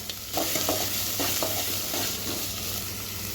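Chopped onions and green chillies frying in hot oil in a pan, a close, steady sizzle broken by a few scraping stirs of a spoon, with no talking.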